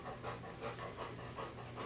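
Dog panting in quick, steady rhythmic breaths, close and continuous through the short stretch, with no talking.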